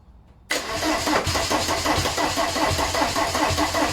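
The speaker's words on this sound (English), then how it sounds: "Let's just try heating the glow plugs again and see if it'll start without the easy start now." A VW TDI diesel engine sitting on a garage floor, out of the vehicle, fires up abruptly after near silence and settles into a loud, steady clattering run with a rhythmic diesel knock.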